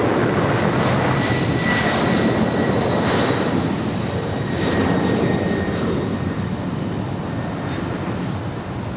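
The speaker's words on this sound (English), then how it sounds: "It's a 787-10 Dreamliner there at Terminal 7, now pushing back from the gates." United Airlines Boeing 787-10 Dreamliner at LAX, heard as a loud, steady jet roar with a high engine whine that holds throughout and eases slightly toward the end.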